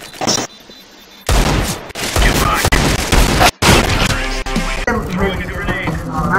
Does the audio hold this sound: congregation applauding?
no